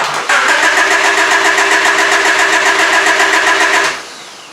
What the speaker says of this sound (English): That was definitely cranking a lot faster.